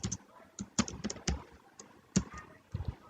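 Code being typed on a computer keyboard in Android Studio, with irregular bursts of close, crisp key taps and short pauses between them, and no voice over it.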